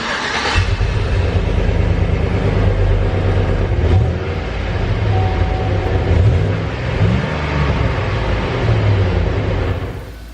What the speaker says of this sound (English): So I am here beside the truck, and let's do a cold start.